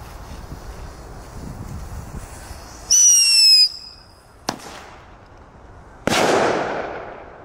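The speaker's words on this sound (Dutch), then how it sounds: "Wat een knallen, hè?" New Thunderking firecrackers going off outdoors: a shrill rising whistle, then a sharp single crack, followed by a loud bang that trails into a fading rumble and echo.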